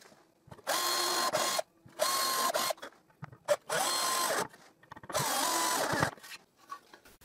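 A power drill drives screws into a plywood strip on a table. Four loud, close bursts of whirring, each about a second long, are separated by short pauses with small clunks.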